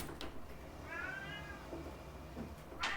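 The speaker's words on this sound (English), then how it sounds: "My cat is knocking on the door and she would like to come in" A cat at a door meows once, a clear rising-and-falling cry in a quiet room, with a faint knock or scratch just before and another short sound near the end.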